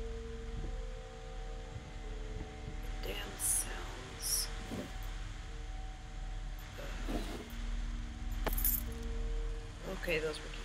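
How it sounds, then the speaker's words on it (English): Keys jangle in a couple of short metallic bursts inside the horror game Layers of Fear, set against a low droning ambient score with faint scattered noises. "those were keys"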